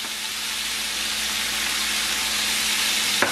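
Green beans sauté in a hot pan with a steady, even sizzle that grows slightly louder, plus a brief bright clink near the end.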